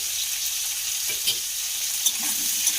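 Cut potatoes seasoned with salt and turmeric powder fry in a pan with a steady close sizzle, broken by a few soft stirring scrapes and no speech.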